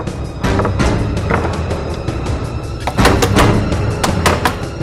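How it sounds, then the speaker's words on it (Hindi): Repeated heavy banging on a door by someone trying to break it open, a steady run of loud, close thuds and knocks with sharper slams toward the end. "तो दरवाजा तोड़ देना है मुझे।"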